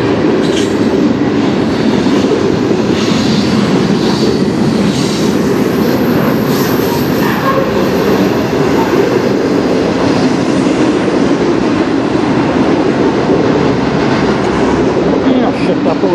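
CN M301 manifest freight train led by two locomotives rolling past at Denfield Road Bridge, a loud, steady rumble of wheels and cars sustained throughout with faint clatter and squeal on top.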